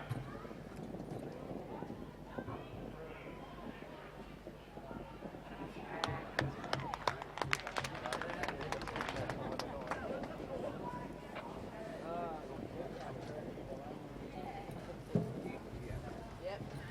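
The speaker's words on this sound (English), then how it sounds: "Westbrook Ivory Coast, a black 20-year-old gelding and a multiple open camp draft winner." At a camp draft, a black 20-year-old gelding gallops, its hooves drumming in fast clip-clop bursts that peak in the middle. A commentator talks over them, with faint crowd murmur behind.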